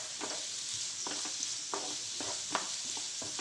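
Onions sauté with a little salt in a pan, giving a quiet, steady sizzle. About seven regular scraping strokes of a stirring spoon sound over it, with no talking.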